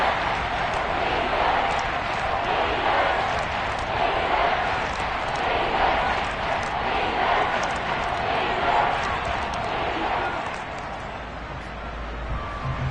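A stadium crowd at Arrowhead in the Madden 23 football video game roars steadily throughout and fills the space, with commentary voices talking over it.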